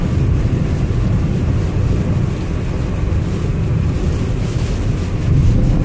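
Loud, steady wind from Hurricane Arthur in 2014 roars and buffets against a moving car, a continuous rushing noise with no voices.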